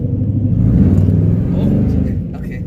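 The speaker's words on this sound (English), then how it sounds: "I hear the turbo." A turbocharged Mitsubishi Lancer engine gives a loud, close, deep rumble that rises slightly and then eases off, heard alongside people talking.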